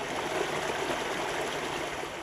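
A stream along a rail trail in a town forest conservation area flows with a steady, fairly loud rushing hiss, continuous and unbroken, with no speech over it.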